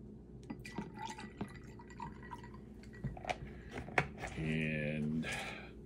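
Cranberry juice poured into a measure for a cocktail, a short faint liquid trickle late on among small clinks and handling sounds, with quiet talk in the background.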